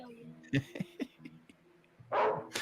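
A dog in an old low-budget movie barks and yips in short bursts, fairly near, with a louder rough outburst toward the end; a voice can be heard briefly as well.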